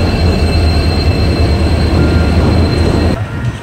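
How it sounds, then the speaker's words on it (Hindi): A train pulls into a station in Itanagar, Arunachal Pradesh, with a loud, steady rumble of wheels and carriages that drops away slightly near the end, close by and without talk. "तो अभी बात करते करते वो ट्रेन भी आ गया, ट्रेन पहुंच गया"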